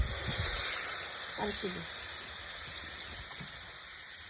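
Water added to hot pangas fish curry masala hisses and steams steadily throughout, and someone speaks briefly over the sound.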